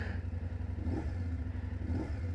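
A 2018 BMW F850GS motorcycle rides along, its engine giving a steady low throbbing pulse with light mechanical clatter, moderately quiet and continuous with no talking.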